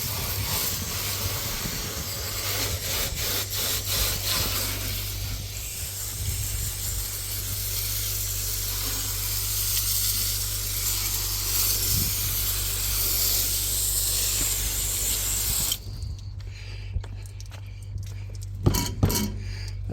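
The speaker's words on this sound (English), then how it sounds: "I'm just going to wash the seat off" Hiss of a water spray washing off a seat, steady and fairly close for about fifteen seconds over a low engine-like hum, then cutting out to quieter background with a few small knocks.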